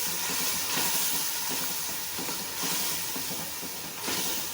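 Spice masala with red chili powder and crushed coriander roasting in a pan for beef paya gives a steady, close, broadband sizzling hiss with faint clatter throughout, no voices.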